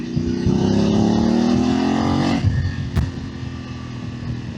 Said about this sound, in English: It doesn't pop and bang on the way down the revs, just a nice tone.